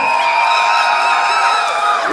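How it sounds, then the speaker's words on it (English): Loud, sustained cheering and whooping from an audience at a youth performance event, voices blending into a continuous roar that carries over the whole moment. "please give a round of applause to Houston"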